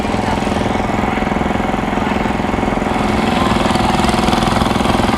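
A small International Harvester tractor's engine runs steadily, its rapid knocking putter continuous and fairly loud throughout, with no clear speech.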